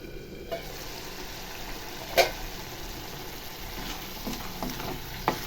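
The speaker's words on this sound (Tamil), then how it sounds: "தக்காளி போட்டு ஃப்ரை பண்ணிடலாம் தக்காளி இதில் போட்டு மிக்ஸ் பண்ணிடலாம்" Tomatoes frying in a pan for raw plantain gravy, a steady moderate sizzle with a few spoon clinks and scrapes, one sharper knock near the middle.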